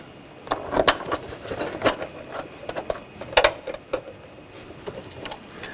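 Rapid metallic clicks and taps from a ratchet tightening bolts on the 3.0L inline-six engine of a 2000-2006 BMW X5, coming in short close bursts with brief pauses between them.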